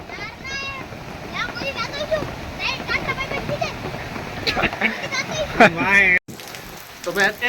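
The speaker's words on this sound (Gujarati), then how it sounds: "આજના દિવસના આખા દિવસનો વરસાદ તમે જોઈ શકો છો" Heavy rain pours steadily over a village during a day of downpour, a dense hiss of drops and splashing that continues beneath people talking nearby, including a voice.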